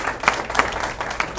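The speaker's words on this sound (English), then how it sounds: "So round of applause." Audience applause at a Broward Young Democrats meeting held in a restaurant, a short burst of scattered hand claps with a few sharper, closer claps standing out against room murmur.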